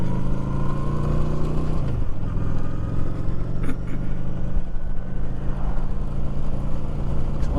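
A Honda Shadow 750 motorcycle rides along on an early morning, its engine a steady, loud drone with a brief dip and shift in pitch partway through, continuous and without speech.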